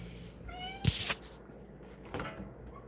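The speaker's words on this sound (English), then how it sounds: "That's my cat." A house cat meows a couple of times at close range, one short rising cry followed later by a quieter second meow, with a brief clatter just before the first call and no talking.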